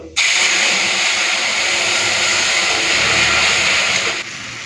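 Strained tamarind water hits hot tempering oil for a sour fish curry, setting off a sudden loud, steady hissing sizzle that holds for about four seconds before easing off.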